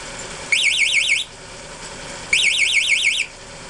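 Warbling electronic alarm from a motor drive box, set off by a key fob, sounding in two loud bursts of about a second each with a short quiet gap between them.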